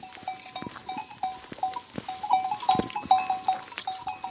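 A flock of sheep grazes in an open field, with faint scattered bleats and tinkling bells ringing repeatedly in the distance.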